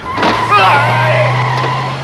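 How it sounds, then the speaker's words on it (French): Taxi tyre bursting and the car skidding in a film scene, a loud sustained screech of rubber sliding on road with engine rumble underneath, close and intense for about two seconds. "Le pneu du taxi explose"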